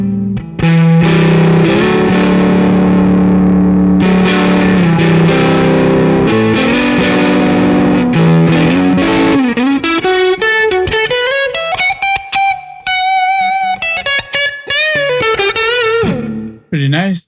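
Electric guitar through the Neural DSP Archetype Nolly X Class A Meltdown preset, with roomy ambience: loud distorted chords ring out, then give way to a clean, chorused melodic line of picked notes rising and falling.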